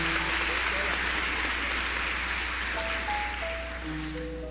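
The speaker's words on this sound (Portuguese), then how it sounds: "Bora aplaudir que isso é bonito." Audience applause at a church or religious talk, a dense steady wash of clapping that stays loud throughout with faint tonal hum underneath.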